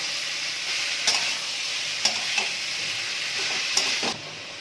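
A spoon stirs amla pickle in hot oil with fennel seeds and dried red chilli. The oil gives a steady sizzle, broken by a few sharp scrapes and clinks of the spoon against the pan.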